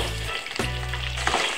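Green chillies and peanuts sauté in a pan with a loud, close, continuous sizzle and crackle, with a brief stirring scrape partway through.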